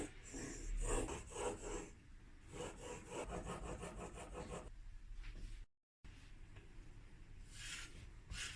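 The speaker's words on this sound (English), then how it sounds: "I finished sharpening with a secondary 30 degrees bevel." The blade of an old Stanley 9 1/2 block plane is sharpened with a 30-degree secondary bevel, making close, repeated rasping scrapes in a steady back-and-forth rhythm, with a brief silent gap partway through.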